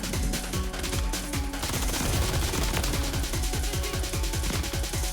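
Sustained automatic gunfire in Call of Duty Modern Warfare 3 from a RIVAL-9 class, dense rapid bursts of shots hammering continuously and loudly throughout with no talk.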